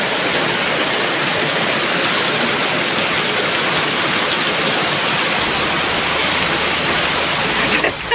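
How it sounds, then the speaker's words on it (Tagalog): Steady heavy rain pours down during outdoor cooking as a storm arrives, a dense, loud, continuous hiss of drops on surfaces filling the whole clip with no break. "Kaya yan, ulan lang yan eh."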